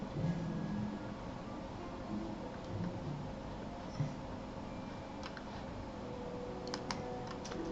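Typewriter keys clacking in the Back to the Future adventure game on PC, a quiet, steady run of mechanical taps over a low ambient hum, with a few sharper clicks near the end.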